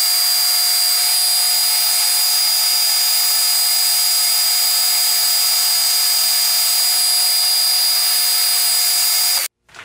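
A metal lathe turning a part for a telescope camera mount at higher speed makes a loud, steady whining cut with a sustained tonal hum that holds evenly, then stops abruptly near the end.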